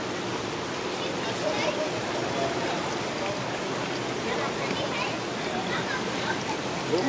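Continuous broadband water trickling and splashing from a small stone, a steady close rush with no pauses throughout.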